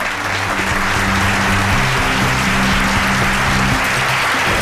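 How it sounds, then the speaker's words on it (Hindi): Audience applause from a studio or stage crowd on a TV crime drama set, steady dense clapping filling the whole stretch at high level, with no talk over it. "तालियां।"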